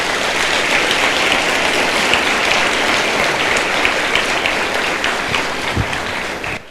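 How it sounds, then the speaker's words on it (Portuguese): Church congregation applauding during a sermon: loud, dense, sustained clapping from a large crowd, steady for nearly seven seconds and tapering slightly at the end. "aplaudam o Senhor Jesus."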